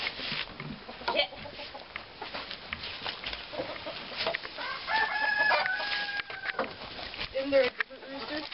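A rooster crows loudly midway while hens cluck and chatter around it, with people talking and moving nearby outdoors.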